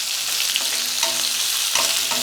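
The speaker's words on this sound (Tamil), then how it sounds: "இப்போ இதை சேர்த்து நல்லா வதக்கி விட்டுறலாம்." Sliced large onions sizzle in hot oil in a pan for potato masala for poori, a loud steady frying hiss close by with a few soft stirring scrapes.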